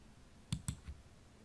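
Computer mouse clicks, two crisp close clicks in quick succession followed by a fainter third, against a quiet room hum.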